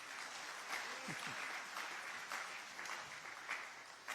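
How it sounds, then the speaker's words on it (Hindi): Applause from the audience at a Hindi comedy poetry recital, a faint, distant patter of clapping running steadily throughout, with a brief voice partway through. "ताली बजाइए, हम आगे बढ़ें"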